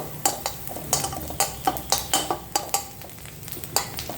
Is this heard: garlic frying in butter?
yes